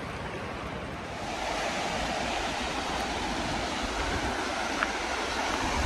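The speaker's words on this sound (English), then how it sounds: "We're at the first waterfall for the day." A waterfall on the Bolaven Plateau in southern Laos roars as a steady, dense rush of falling water, loud and continuous throughout with no voices.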